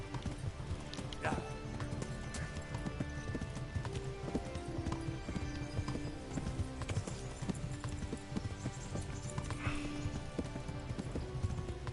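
Horse hooves clip-clopping steadily while riding in the video game Kingdom Come: Deliverance, a continuous quick rhythmic gait heard close and clear for the whole stretch.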